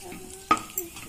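A metal spoon scrapes and clinks in a pan as dry fruits roasted in ghee are stirred and lifted out, giving one sharp clink followed by a softer tap, with a faint sizzle in the background.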